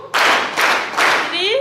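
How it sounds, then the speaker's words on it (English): Three loud, evenly spaced unison claps from an audience at a scholarship award ceremony, with a voice starting to speak just as the last clap fades. "Let us give them 3 claps."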